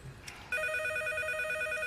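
A telephone starts ringing abruptly after a brief quiet moment, a steady electronic tone that holds at moderate volume to the end, with no talking over it.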